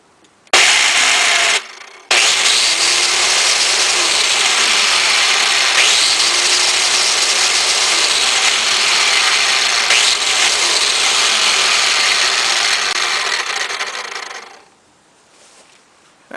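An electric lawn tool runs with its blade open, a loud steady high-pitched buzzing whir that starts abruptly, cuts out briefly, restarts and holds for about twelve seconds before winding down.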